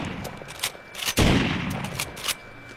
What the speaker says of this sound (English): you can swift fire this shotgun